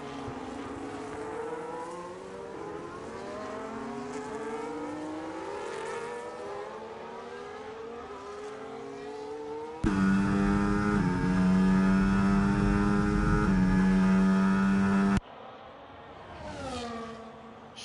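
Formula 1 race cars in a video game at the Miami circuit scream along the straight, loud and continuous, with engine pitch sweeping up through gear changes and a brief passing car at the end.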